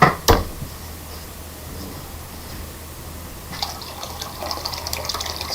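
Heated water gushes and splashes as it is poured or run from a tap for throwing black clay pottery, with a sharp knock at the start and a louder splashing fill near the end.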